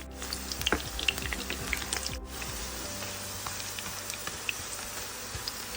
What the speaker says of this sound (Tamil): நம்ம எடுத்து எண்ணெயில் போட்டு வறுக்கலாமா?